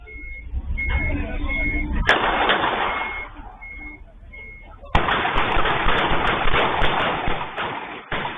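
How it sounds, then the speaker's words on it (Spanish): Gunfire from a fatal nighttime shootout near La Vega Central market, heard as dense crackling bursts of distant shots captured on a rough recording, sustained and loud with a steady background noise and a faint repeating beep. "este registro que da cuenta de la gran cantidad de disparos que se dejó sentir a eso de las 1, 2 de la madrugada"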